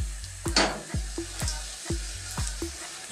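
Coriander seeds and green cardamoms sizzle and crackle in hot sunflower oil in a pan, with a steady frying hiss broken by regular stirring scrapes about every half second, close and fairly loud.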